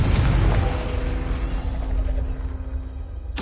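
Confringo spell explosion in Hogwarts Legacy, a deep booming burst that rumbles and fades over a few seconds, ending with a brief sharp crack, with no talking.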